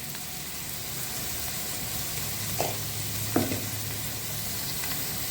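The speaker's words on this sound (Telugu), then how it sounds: "ఓకే, నూనె వేసిన వెంటనే మనం ఉల్లిపాయ అనేది వేసేసుకోవాలి" Chopped onions sizzle steadily in hot oil with salt in a pan for a bean curry, a constant soft frying hiss broken by a couple of sharp utensil clicks as they are stirred.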